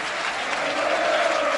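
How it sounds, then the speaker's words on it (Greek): Stadium crowd at a Greek football match between Panionios and AEL Larissa applauding steadily, a dense, even wash of clapping that holds at a constant level throughout. "Χειροκρότημα για τον Μανιάτη που ανταποδίδει"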